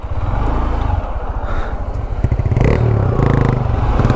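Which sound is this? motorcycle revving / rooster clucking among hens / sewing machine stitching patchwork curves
motorcycle revving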